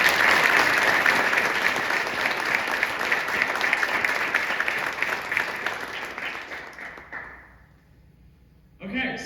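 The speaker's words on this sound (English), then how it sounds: "Quick more round of applause." Applause from the audience at a senior thesis music performance, dense steady clapping for about seven seconds before fading out, then a brief burst of clapping again at the end.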